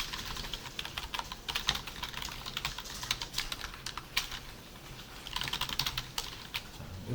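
Close-up typing on a computer keyboard as several lines of code are entered: a steady stream of irregular clicking keystrokes with brief pauses between bursts.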